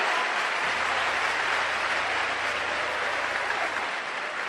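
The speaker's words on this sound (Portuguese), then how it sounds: "É para aplaudir, é?" A church congregation at a worship service bursts into steady, dense applause, many hands clapping together in a continuous wash that holds evenly for several seconds, fairly quiet and distant with no voice over it.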